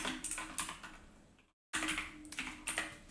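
A command is typed on a computer keyboard, heard as quick, close bursts of key clicks, cut by a short silent break before more rapid typing resumes.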